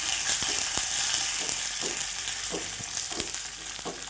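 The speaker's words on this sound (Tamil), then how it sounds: "ஒரு ரெண்டு மிளகாய் இதை போட்டு தாளித்து மேலே கொட்டிக்கலாம்" Garlic, curry leaves and chillies tempering in hot oil, a bright continuous sizzle broken by several sharp clicks and stirring knocks, close by with no voices.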